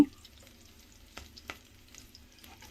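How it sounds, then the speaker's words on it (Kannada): Onions and spices fry quietly in a pan on a low flame as part of a chicken liver fry, giving a faint, soft sizzle with a few brief clicks of stirring, close and without any voices. "ಸ್ಟವ್ನ ಲೋ ಫ್ಲೇಮಲ್ಲಿ ಇಟ್ಕೊಂಡು ಫ್ರೈ ಮಾಡ್ಕೋಬೇಕಾಗತ್ತೆ"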